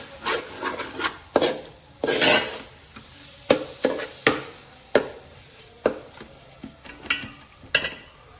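Masala for kuska kurma being sautéed in oil, with a spatula scraping and stirring in repeated uneven strokes over a low sizzle, close and fairly loud, without any talking.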